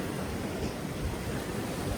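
Pacific Ocean surf near the redwoods of Jedediah Smith in northern California, heard as a steady, dense wash of breaking waves with wind, continuous and fairly close, with no voices.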